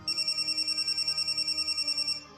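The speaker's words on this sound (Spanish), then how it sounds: "En aquel momento, su móvil comenzó a sonar" A mobile phone ringing in a hushed hall gives a fast, evenly pulsing electronic trill, about eighteen bright bursts in a steady rhythm, loud and close with no voices, then cuts off.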